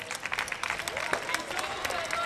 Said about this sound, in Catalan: Un aplaudiment per ells, sisplau